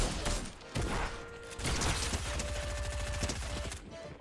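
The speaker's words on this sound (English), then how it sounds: "I hear fucking gunshots behind me" Rapid bursts of gunfire crackle over a dense, noisy Fortnite soundscape, with mechanical clicks and tones mixed in; no one speaks.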